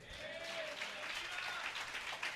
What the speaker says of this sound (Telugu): ఎంతమంది చప్పట్లు కొడతారు?